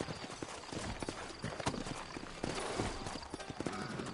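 Steady clip-clop of video game horse hooves at a walking pace, fairly close, with a faint background ambience and no talking.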